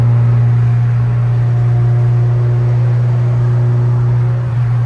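A car with a B20 engine makes its first drag strip pass, a loud, steady engine drone with a strong low hum throughout, close and continuous, with no talk.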